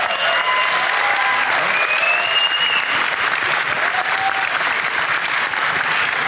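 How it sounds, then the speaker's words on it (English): Loud, steady applause from a large audience at a TI9 Dota 2 Q&A session, continuous clapping filling the hall with faint whistles riding over it, no gap from start to finish. "So give him, please, a round of applause"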